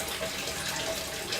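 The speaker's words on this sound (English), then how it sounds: "What's coming out of this right now? Water." Water pours steadily out at the Mount Vernon mill in a continuous, even rush without pauses, fairly faint and with no talking over it.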